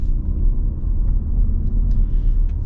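Steady low road rumble inside a 2026 Toyota Grand Highlander Hybrid while driving, a quiet, even cabin drone with faint high ticks and no talking.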